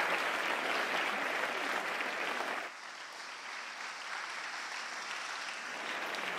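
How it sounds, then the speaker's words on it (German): A packed Protestant church congregation in Bühl applauds after a Christmas musical: dense, loud clapping fills the space, then drops abruptly to a softer but continuing round of applause. "Das war euer Applaus."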